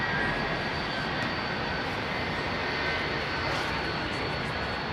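Jet engines of an airliner roar steadily as they power up at London Heathrow Airport on a busy evening, a loud continuous broadband rush with a faint high whine and no voices.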